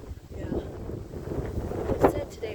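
Wind on a windy day in an open field, steady gusty buffeting over the microphone with a brief louder gust near the end.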